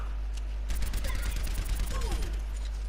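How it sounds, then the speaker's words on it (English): Soldier 76's Helix rockets firing in Overwatch: a dense volley of sharp blasts and rattling gunfire-like bursts, close and loud, over a steady low game hum. "that's basically the Helix rockets for you guys"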